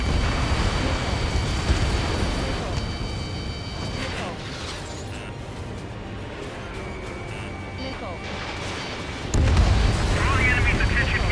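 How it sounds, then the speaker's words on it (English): Missile explosions and heavy booms from combat in the video game Ace Combat 7, a dense continuous rumble of blasts with a louder burst near the end, under radio chatter and game music. "Missile away. Vehicle confirmed destroyed."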